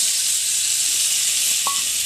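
Raw and ripe mango pieces sizzle in hot oil with chilli and five-spice seasoning, a steady close hiss of frying with a brief stirring scrape near the end.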